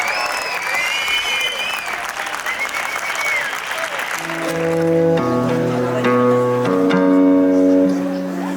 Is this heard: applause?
yes